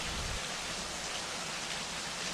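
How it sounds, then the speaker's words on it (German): Steady rain hisses across a racing track in the rFactor sim racing game, an even, unbroken wash of patter with no other sounds. "Und es regnet."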